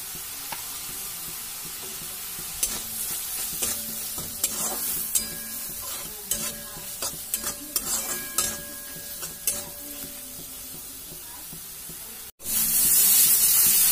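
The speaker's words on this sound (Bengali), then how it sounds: "এখন মশলাটা একটু ভাজা মতো হয়ে গেছে।" Spice masala with turmeric and salt sizzles in hot oil for a snail curry while a utensil scrapes and stirs the pan in irregular strokes, ending with a sudden loud hiss.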